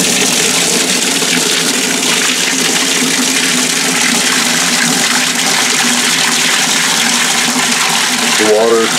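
Water gushes steadily from the tap into a tub with a plugged drain, a loud continuous rush that keeps the same level throughout, with a faint voice near the end.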